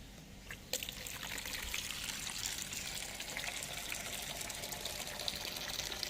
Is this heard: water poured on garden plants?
yes